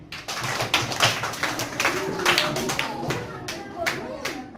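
A school audience welcomes guests with many rapid overlapping hand claps that stay steady for a few seconds, with faint voices underneath.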